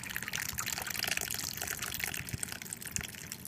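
Canned petite diced tomatoes and beef broth pour into a soup pot as a steady, close liquid gush with splashy wet texture throughout, no talking.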